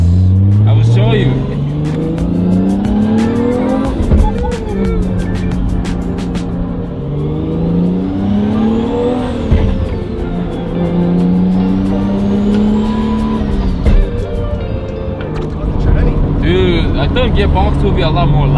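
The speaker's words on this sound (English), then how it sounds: "I think the turbo spool is louder than the gear whining on the transmission." A Nissan Skyline GT-R build for SEMA accelerates loudly up close, engine pitch climbing through repeated gear pulls with rising whine and turbo spool, while people talk over the drive.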